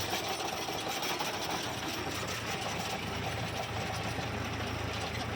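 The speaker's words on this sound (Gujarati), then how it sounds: "તો આ ટ્રેક્ટર આંકવામાં બધાથી અઘરું કામ હોય તો આ રોટાવેટરનું છે જે અત્યારે હાલત છે" A tractor pulling a rotavator through hard, dusty field soil for a chickpea crop, giving a continuous loud mechanical drone with a fast rattling churn that holds steady and unbroken, with no voices.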